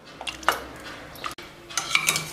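Cooked pav bhaji vegetables being mashed with a ladle in a pressure cooker, giving scattered metallic knocks and scraping clatters, close and moderately loud, with short pauses between strokes.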